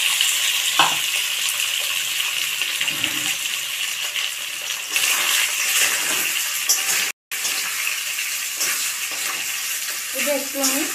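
Chicken pieces fry in a pan with a continuous close sizzle. Scraping stirs and a brief clink break through now and then, with no speech.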